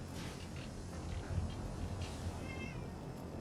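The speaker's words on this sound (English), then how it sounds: "There's a kitty cat." A cat in the video game Fallout 4 gives a few short meows over a continuous background ambience, the calls fairly quiet and brief.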